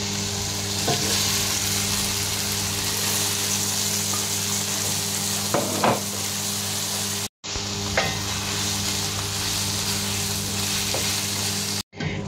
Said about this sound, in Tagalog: ilalagay na natin ang giniling